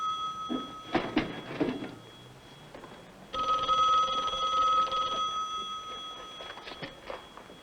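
An old telephone bell rings in a 1960s comedy scene, a sustained metallic trilling ring that starts partway through and stays loud, with brief knocks and handling sounds before and after.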